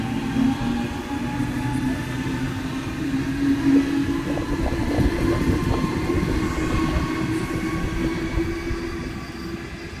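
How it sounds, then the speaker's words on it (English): A Waratah Series 1 electric train pulls into the platform at Doonside station, a loud continuous rumble of wheels and motors with faint rail clatter and squeal, close by, with no talk. "arriving into platform one, we have a central service"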